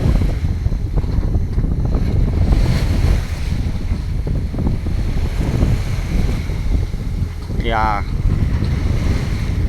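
A sailboat under genoa with its engine also running moves through open sea at four to five knots, a loud, continuous rush of wind buffeting the microphone and waves washing against the hull, with a brief spoken word partway through.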